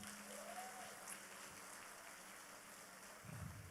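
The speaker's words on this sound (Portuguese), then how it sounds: "vamos aplaudir a irmã aí" Applause from a church congregation for a woman who reads and memorizes the Bible, a quiet, distant patter of clapping that runs steadily throughout with a faint low hum and a brief swell near the end.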